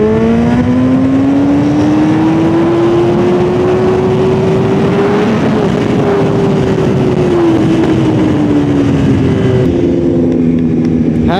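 A stage 2 tuned BMW S1000RR sportbike engine revs hard and sustained, its loud pitch climbing then sagging and rising again before the throttle drops near the end, with no talk over it.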